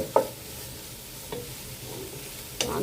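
Food frying in a pan gives a steady, quiet sizzle, broken by three brief scraping knocks as it is stirred at roughly even intervals. Nobody speaks.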